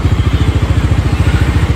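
Up close, the uncle's motorcycle runs at idle with a rapid, steady pulsing putter, loud and uninterrupted by speech.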